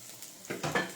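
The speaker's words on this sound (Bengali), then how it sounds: "গার্লিকটা একটু ফ্রাই করে নেবো হালকা" Garlic frying lightly in a pan for spicy cheese noodles: a short soft sizzle with a couple of stirring scrapes, close and fairly quiet.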